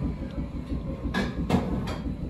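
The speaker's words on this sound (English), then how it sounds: "You could feel the train passing the bottom of your feet." Low steady rumble of a train passing, with a few sharp hissing bursts and squeals cutting through.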